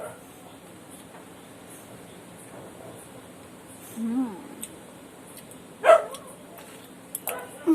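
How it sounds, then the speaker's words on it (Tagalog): A dog gives a few short barks, one louder yelp standing out, amid quiet background noise. "Tumatahol na si Ulap, gutom na"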